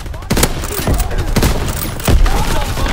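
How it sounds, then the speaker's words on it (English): Enemy artillery in the Call of Duty WWII video game: several heavy thumping blasts land about a second apart among continuous battlefield gunfire, loud and close. "Incoming enemy artillery."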